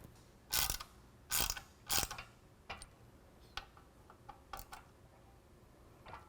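Ratchet clicks come in short, sharp bursts, close and fairly quiet, as mounting bolts are snugged up on a Rugged Ridge HD rear bumper for a Jeep JL, with lighter ticks in between.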